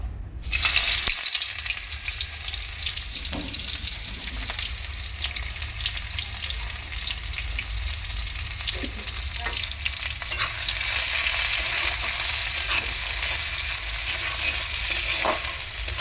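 Bay leaf and a dried red chilli frying in a little oil in a kadai, giving a steady, close, bubbling sizzle that runs unbroken with no talking.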